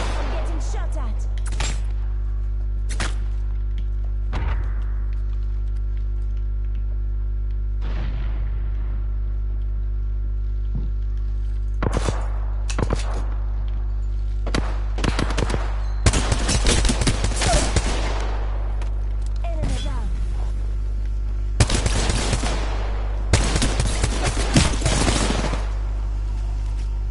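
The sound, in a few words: gunfire from a video game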